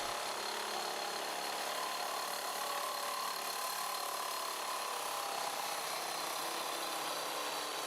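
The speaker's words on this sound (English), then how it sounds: "Just take a look at the quick cutting speed on this large galvanized pipe." A Milwaukee M18 brushless Sawzall, model 2621-21, cuts through large galvanized pipe with a continuous rasping, buzzing saw noise that stays steady and fairly quiet throughout.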